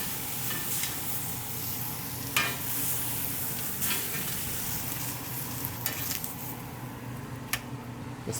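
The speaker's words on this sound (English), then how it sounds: "we are not trying to cook it, we're just trying to sear it" A Denver strip steak sears in a very hot pan with a steady close sizzle, broken by several brief sharp spatters and pops, with no voices.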